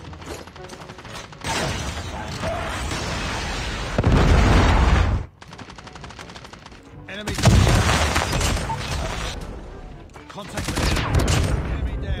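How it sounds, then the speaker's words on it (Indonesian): Enemies exploding in the Call of Duty Mobile video game, loud booming blasts with mechanical weapon noise, coming in several bursts between quieter stretches. "Meledak-ledak itu musuh."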